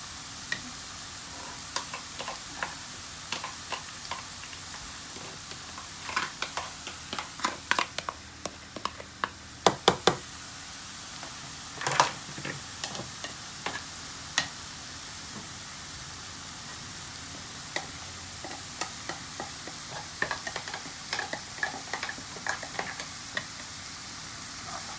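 Ground chili and garlic frying in a pan for a garlic sweet chili sauce, giving a steady soft sizzle with scattered crackles and pops and occasional stirring scrapes, close by and with no voices.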